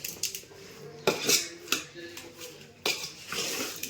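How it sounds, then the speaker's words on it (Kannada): Biryani ingredients with green chillies are mixed in a bowl, giving irregular close clinks and scrapes of a utensil against the dish, with a few sharper knocks among softer stirring sounds. "ಇವೆಲ್ಲ ಹಾಕಿ ಚೆಂದ ಮಿಕ್ಸ್ ಮಾಡಬೇಕು"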